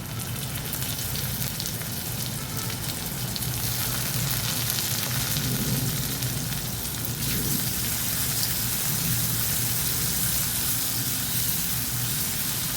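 Onion and tomato sautéing in a pan for a mutton brain (bheja) fry, giving a steady, fairly loud sizzle and crackle that runs throughout with no talking.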